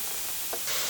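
Curry ingredients sizzle steadily in a hot pan as salt and spices are added, a close, continuous hiss with a brief stir or clatter partway through.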